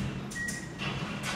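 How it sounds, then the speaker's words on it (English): A 2001 Fujitec hydraulic elevator's large three-speed door slides open at an IKEA store in Coquitlam, British Columbia, making a few short close whooshes and rolling sounds, with a faint thin tone in between. "Watch the 3-speed door open."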